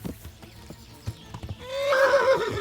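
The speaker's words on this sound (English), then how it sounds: "Fucking horse, get back here." In the video game Kingdom Come: Deliverance, hooves clip-clop in an uneven trot, then a horse gives a loud, wavering whinny that rises and trails off near the end.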